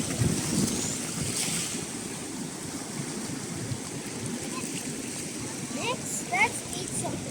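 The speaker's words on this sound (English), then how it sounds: "Oh no, the waves. The waves are coming." Ocean surf washing onto a beach at Baler, a steady broadband wash with wind buffeting the microphone and faint distant voices.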